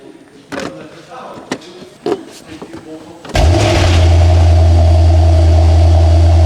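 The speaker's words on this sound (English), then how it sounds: "Okay, so I've just started the car up." A Mercedes GT63s, bought at auction, fires up after a few quiet cabin clicks and thuds, its engine catching with a sharp surge and then settling into a loud, steady, deep idle that holds to the end.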